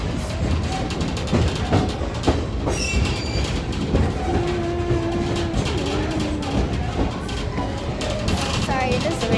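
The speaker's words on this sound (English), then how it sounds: "we're on the train tracks" Passenger train rolling along tracks at Stone Mountain, with steady rumble, rhythmic clatter and a couple of drawn-out wheel squeals, heard from on board as people talk over it.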